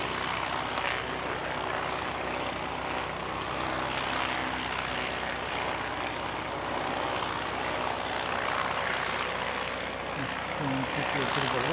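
An aircraft comes in to land at GCH. Its engine drone is loud and unbroken, a dense, steady roar that fills the whole stretch.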